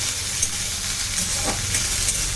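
Spring onions and chopped onions fry together in a pan with a steady, close hissing sizzle and a few faint stirring touches.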